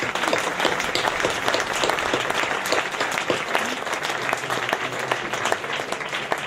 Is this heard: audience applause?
yes